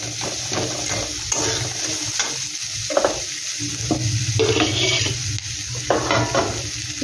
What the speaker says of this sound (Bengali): পেঁয়াজটা একটু হালকা ভাজা ভাজা করে নেব।